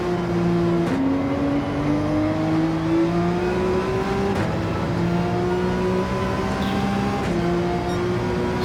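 A race car engine revs loud and close during a 15-lap race in Gran Turismo 7. The pitch climbs steadily through each gear, then drops sharply at three shifts before rising again.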